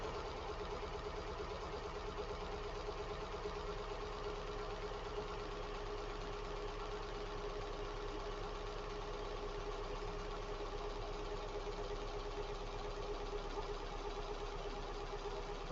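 A car engine idles steadily and evenly for a long stretch, a constant close mechanical hum with a faint rapid ticking running through it.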